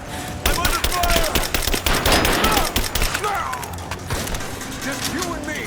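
Heavy automatic gunfire in the video game Rise of the Tomb Raider, loud rapid bursts of shots close by over rumbling battle noise, thinning out toward the end.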